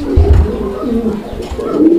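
Dauga pigeons coo close by in low, rolling, throaty calls repeating over two seconds, loud and clear with no talk.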